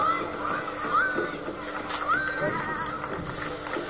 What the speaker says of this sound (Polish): Dwa powozy nadjeżdżały właśnie ze stron przeciwnych